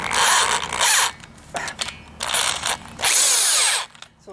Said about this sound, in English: So drill with a smaller bit first, then step up to the bigger bit.